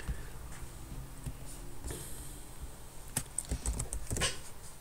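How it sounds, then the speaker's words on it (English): Quiet, steady typing of code on a computer keyboard, with soft irregular keystrokes and a few sharper clicks toward the end, heard alone at low volume. "I'm going to type some code there again"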